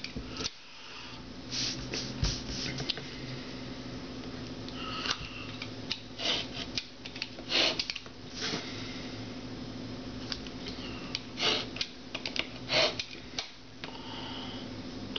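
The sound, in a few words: back of a craft knife scoring paper folds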